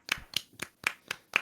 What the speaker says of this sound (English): I'd love to see some claps from our panelists